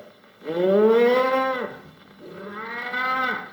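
A ventriloquist's voice imitating a bull mooing: two long, drawn-out lowing calls in close succession, loud and near, with no other talk.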